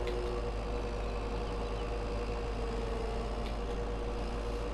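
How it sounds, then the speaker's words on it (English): Full-size tractor with a mower deck drives around a small residential yard, its engine running as a steady, continuous low rumble throughout, with no talk over it. "This yard really isn't made for a full-size tractor and mower setup"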